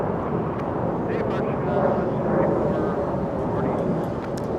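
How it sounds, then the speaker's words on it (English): A SkyWest Embraer E175 regional airliner rumbles steadily at Los Angeles International Airport, a broad, constant jet roar heard from a distance, with a faint voice talking over it. "SkyWest 3446 flies to San Francisco. A little Embraer E175."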